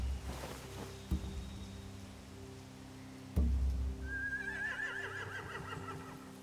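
A horse in The Walking Dead: The Final Season video game whinnies near the end, a rising, wavering neigh over a low steady rumble, with a thud partway through.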